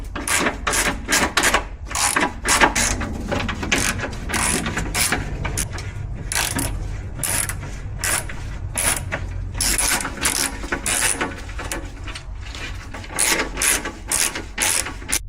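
A hand ratchet works loose the 16mm bolts holding a skid plate on a Ram 1500 TRX, giving a fast, steady clicking pawl sound close to the microphone with brief pauses and slight scraping, and no talk.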